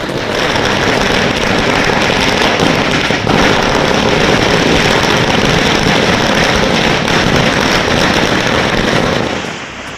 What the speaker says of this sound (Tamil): தமிழகம் முழுவதும் பட்டாசு வெடித்து இனிப்பு வழங்கிய திமுகவினர்.